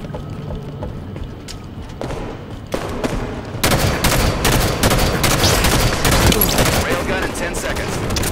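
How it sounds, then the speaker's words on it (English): Heavy gunfire in a Halo 5 match, scattered shots at first, then a dense, sustained roar of overlapping automatic fire and explosions that grows loud and continuous. "Enemy fire!"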